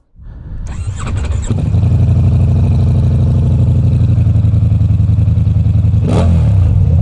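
A 2023 Ducati V4 Diavel motorcycle starting up: a whirring starter catches into a loud, deep, throbbing idle that holds steady, with a sharp blip of revs near the end.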